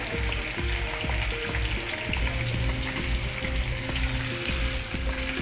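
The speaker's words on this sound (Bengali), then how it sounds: "মাছগুলো আমি ভাজা বসিয়ে দিয়েছি বন্ধুরা" Pomfret fish pieces frying in oil make a dense, steady crackling sizzle, close and constant, with small irregular pops and faint clinks in the background and no talk.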